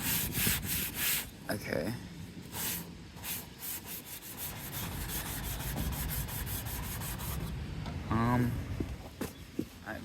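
Paint on a Toyota Yaris is hand-sanded in quick repeated back-and-forth strokes of rasping friction, with a few brief words of speech partway through.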